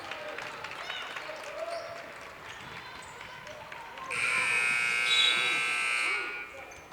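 A long, loud electronic buzzer ends the quarter of a high school girls basketball game, blaring for about two seconds over gym crowd noise and a commentator's voice.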